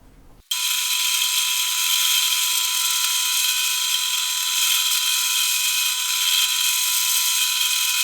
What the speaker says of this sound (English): I can then drill through from the top and the bottom with a 3 or a 4mm drill bit